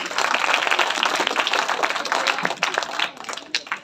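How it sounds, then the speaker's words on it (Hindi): A children's audience at a school academy claps together, a dense, steady patter of many hands close by that trails off and thins toward the end. "बहुत अच्छे, इनके लिए तालियां बजाइए प्लीज।"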